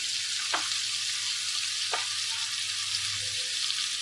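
Raw prawns frying in a pan, a continuous close sizzle of hot oil with two brief stirring scrapes.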